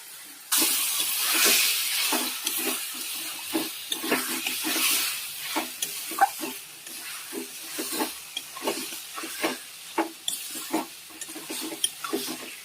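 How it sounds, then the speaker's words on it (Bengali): Chicken masala is stirred and fried in a pan, with a steady sizzle and repeated scraping strokes of a spatula against the metal. The sounds come in an irregular rhythm, close and clear, with no talk. "এবার মশলাটা ভালো করে কষবো।"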